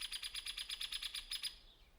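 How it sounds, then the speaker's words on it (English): A hairy woodpecker gives its whinny call, a quick, evenly spaced series of about a dozen sharp high notes that ends with a slight drop in pitch, clear against a quiet background. "the hairy woodpecker has a down pitch right at the end of its whinny call."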